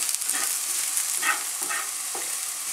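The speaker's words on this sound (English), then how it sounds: "You just sweat the garlic." Garlic cloves sweating and browning in hot olive oil at a campsite supper, a steady close sizzle running throughout with a few soft stirring scrapes.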